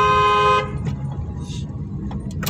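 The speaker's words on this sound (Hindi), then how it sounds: "हॉर्न" A loud, steady car horn blares for about half a second, followed by road noise and faint clicks.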